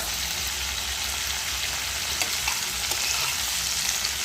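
Chopped yardlong beans frying in a pan for a potato and poppy-seed dish, giving a steady, close hiss of sizzling oil with a few faint stirring clicks and no talking.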